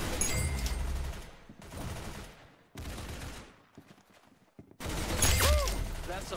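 Bursts of rapid gunfire from the Roblox shooter game Arsenal, loud and close, arriving in clustered volleys separated by brief lulls, with a voice talking over part of it.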